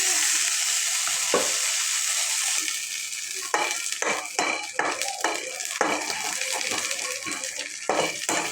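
Masala frying in hot oil in a kadai, a steady close sizzle throughout, with scraping and clinking of a spoon against the pan growing busier in the second half.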